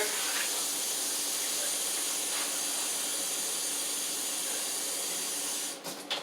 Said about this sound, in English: I'm running this water.